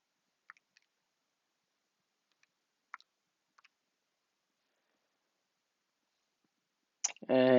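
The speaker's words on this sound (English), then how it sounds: "I guess I should be plugging that in my calculator." Calculator keys pressed during homework: a few faint, sparse plastic clicks spaced over several seconds in near silence, followed by a voice starting to speak.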